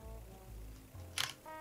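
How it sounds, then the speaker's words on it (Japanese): A single crisp shutter release clicks from a camera fitted with an old manual lens, short and close against a quiet background hum. "シャッターが下りると思います。"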